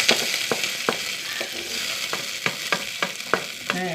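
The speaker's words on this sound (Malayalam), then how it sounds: "പച്ചടി താളിച്ചെടുക്കും. മുളക്, കറിവേപ്പില ഇത് ചേർത്ത്" Chili and curry leaves are tempered for pachadi in hot oil, crackling and sizzling steadily up close, with a series of sharp scraping stirs against the pan.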